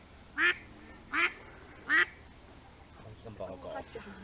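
A duck on the Norfolk Broads gives three loud, evenly spaced quacks close by, followed by quieter murmuring voices.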